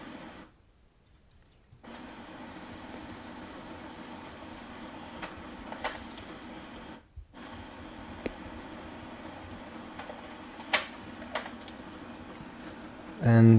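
An HP LaserJet MFP M234sdw printer scans a document page by page, giving a steady soft mechanical whir broken by short pauses and a few clicks.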